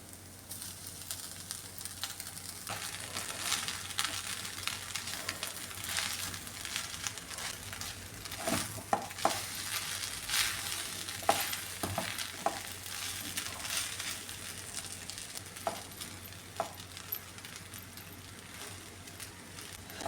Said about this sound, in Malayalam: ഇനി ഇതെല്ലാം കൂടെ നന്നായിട്ടൊന്ന് മിക്സ് ചെയ്യാമേ